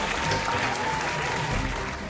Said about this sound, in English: Let's give them a round of applause as we begin the competition.